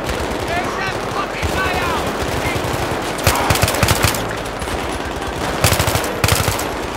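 Automatic weapons fire in the video game Battlefield 3: rapid machine-gun bursts crackle loudly and repeatedly, with heavier volleys clustering in the second half.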